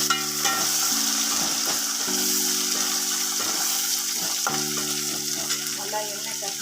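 Garlic sautés in oil in a pan for a fish curry, making a constant close sizzle that fills the whole stretch, with a sustained tonal hum running beneath it.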